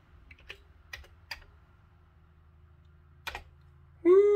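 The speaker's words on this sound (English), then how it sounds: "let me plug a keyboard into it and type in some code" Scattered, sparse keystrokes on a keyboard plugged into a Commodore 64 under repair, a few separate taps against a low hum, followed by a sudden steady electronic tone from the machine.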